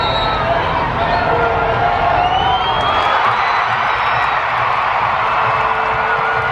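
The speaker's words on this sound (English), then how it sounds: "Crowd's on their feet." Stadium crowd at a USA v Mexico friendly football match roars and cheers steadily as a penalty is about to be taken, a dense, loud, continuous wash of voices with scattered whoops throughout.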